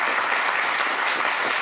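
Steady audience applause at a business awards ceremony for mid-sized companies, a dense wash of many hands clapping, loud and continuous throughout.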